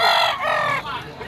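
A green-legged white chocolate rooster at a Malabon pet market crows once, a loud close cock-a-doodle-doo with a clucking tail.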